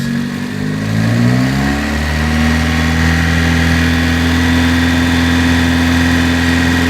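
A car engine rising from idle to a steady higher rev, about 2500 rpm, during an oxygen sensor test. The strong harmonic hum climbs over the first two seconds and then holds constant and loud, with no talking.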